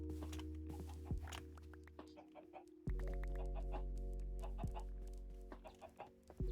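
Chickens in a modded Minecraft game give short, repeated clucks at close range, with the game's steady electronic hum running underneath and no voice over them.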